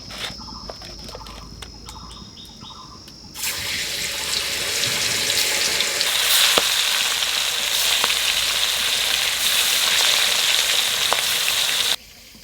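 Pieces of katla fish fry in hot oil in a pan, a loud continuous sizzle that jumps in intensity partway through and holds steady before cutting off abruptly.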